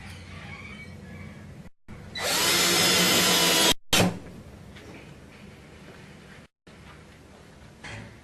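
A power drill drives screws into a mounting bracket for a Tork Matic dispenser trim ring kit, with one long, loud continuous whir of about two seconds, then a brief burst and quieter handling noises, with no talk.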